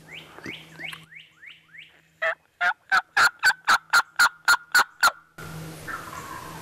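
In spring hunting woods, a series of descending yelping notes leads into a wild turkey's loud, fast-pulsing gobble of about a dozen bursts, then a low rustling background.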